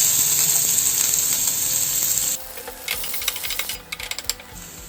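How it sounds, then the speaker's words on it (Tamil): Onion sautéing in hot oil in a pan while making egg Maggi masala noodles, a steady loud sizzle that gives way to softer frying with clinking, scraping stirring sounds. "ஆயில் ஹீட் ஆனதும் இதில் ஆனியன் சேர்த்துக்கலாம்."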